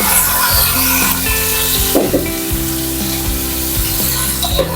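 Chicken pieces fry in a pan with golden-brown garlic, giving a loud continuous sizzle with bursts of stirring, and background music plays underneath.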